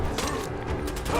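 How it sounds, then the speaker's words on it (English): A weapon reloading in Fallout 4: a quick run of mechanical clicks and ratcheting metal clacks, close and fairly quiet, over a low rumble of game ambience. "Reloading."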